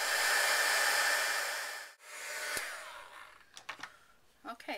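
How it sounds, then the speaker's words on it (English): A heat gun blows hot air to set embossing on an altered Starbucks bottle craft, a steady broadband whoosh that cuts out briefly near the middle, resumes, then fades as faint handling noises follow. "use the heat gun to set"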